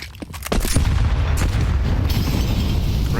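Grenades exploding in Counter-Strike during a FURIA vs. NAVI match at IEM Kraków on the Inferno map, a couple of quick pops then a loud sustained boom with rumbling, crackling blasts that carry on to the end.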